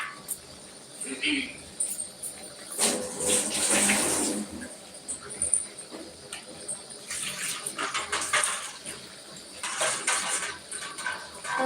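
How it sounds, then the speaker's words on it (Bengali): A plate that held fried fish is washed with running water, giving splashing, pouring bursts in two main stretches against a steady background of chirping crickets. "এই যে মাছের ভাজা তুলেছিলাম সেই থালাটা ধুয়ে একটু জল দিয়ে দিলাম"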